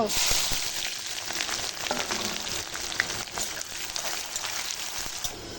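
Onions frying in hot oil in a kadai, following cumin, dried red chilli, whole garam masala and bay leaves, giving a steady close crackling sizzle with scattered pops and stirring scrapes throughout, no voices.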